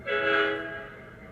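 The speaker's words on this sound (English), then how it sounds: "SFS means a forward whistle, which is 2 shorts" MTH DCS model train forward whistle sounding as one short, loud blast of layered tones that fades out quickly, with no second blast audible.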